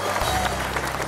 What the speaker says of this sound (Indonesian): Tepuk tangan buat Ayu